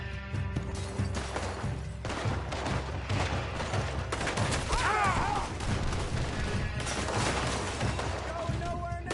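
Video game gunfight with dense, overlapping gunshots and crashes, loud and continuous, while in-game voices shout over the firing.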